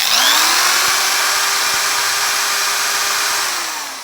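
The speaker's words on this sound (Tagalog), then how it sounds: "So drill, tingnan natin kung ano wattage." Power drill running from a solar inverter setup, a loud steady high-pitched motor whine that spins up quickly, holds for several seconds and then begins to wind down, with no talk.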